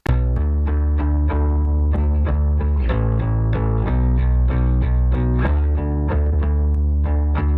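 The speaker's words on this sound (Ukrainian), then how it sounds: "DI стиснутий з допомогою компресора Colin від Analog Obsession додає певну сатурацію, певну теплоту в сигнал" Bass DI signal compressed through an Analog Obsession Colin compressor with added saturation, a warm, thick, distorted run of plucked notes in a steady repeating rhythm, dense and loud with no talk.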